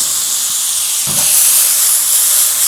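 Pork dropped into hot oil in a pan, giving a loud steady sizzle and hiss that swells slightly as the meat hits, continuing unbroken throughout.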